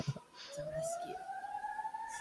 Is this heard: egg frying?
no